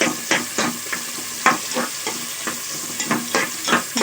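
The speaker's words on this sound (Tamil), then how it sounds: "நல்லா ஆனியன் வந்து நல்லா ப்ரௌனாக நல்லா வதங்கட்டும்" Onions browning in a pan with ginger garlic paste for veg biryani, a constant sizzle broken by regular spoon strokes about every half second, close and clear, with no voices.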